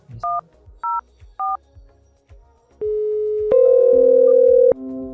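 MicroSIP softphone placing a VoIP call to Zoiper through a FreePBX server: three short DTMF dialing beeps, then steady call-progress tones that step up in loudness, clear and close with no talk.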